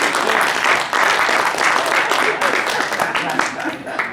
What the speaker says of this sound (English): I've never received applause for reading before,